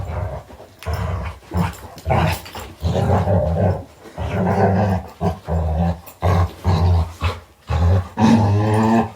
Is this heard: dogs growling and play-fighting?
yes